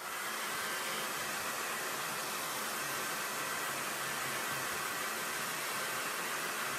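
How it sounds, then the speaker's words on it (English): A blow dryer runs steadily at close range, giving a constant loud rushing whoosh of air as it dries chalk paint on a chalkboard, with no talk over it. "I'm going to use the blow dryer"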